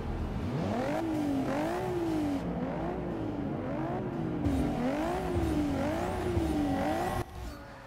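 A Porsche SUV engine in Forza Motorsport 6 revs up and down in a repeated rising-and-falling pattern, loud and steady throughout, dropping off abruptly near the end.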